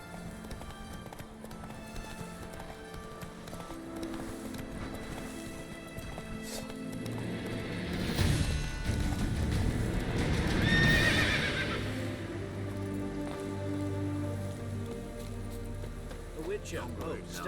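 A horse in The Witcher 3 gallops with steady clip-clop hoofbeats and lets out a loud whinny midway, with game music and a player talking over it.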